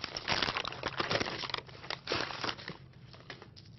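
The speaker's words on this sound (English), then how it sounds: "This pattern is done now, so all we have to do is unwrap it" A paper pattern is peeled and unwrapped from a beer can: close, busy crinkling and rustling paper in irregular bursts that thin out toward the end.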